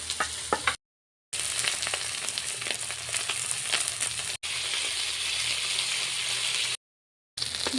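Fish seasoned with turmeric and salt frying in hot oil, a steady crackling sizzle with sharp pops running throughout, broken by a few brief gaps of silence.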